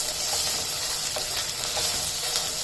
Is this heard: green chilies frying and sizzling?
yes